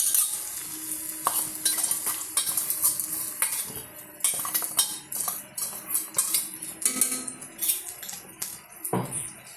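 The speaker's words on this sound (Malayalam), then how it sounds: "നമ്മളിവിടെ വറുത്തുകൊണ്ടിരിക്കുകയാണ് ഞാൻ മറിച്ചിട്ടു അതിലോട്ട് ഇടുകയാണ്" Fish sizzles softly in a pan while a metal spatula scrapes and clinks repeatedly, turning and stirring, close and busy, while frying fish for fish biryani.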